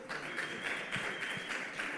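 Faint, distant applause from a conference audience greeting a speaker on stage, a soft steady patter of clapping throughout.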